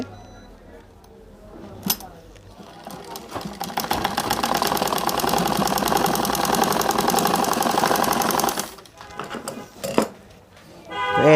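A sewing machine stitches a panjabi placket in a steady, fast mechanical run of several seconds, loud and close, with brief clicks and a voice before and after.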